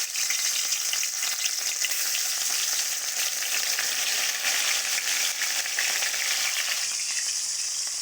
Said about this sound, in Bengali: তেলটা গরম হয়ে গেছে, ওর মধ্যে মাছ কটা দিয়ে ভেজে নেব।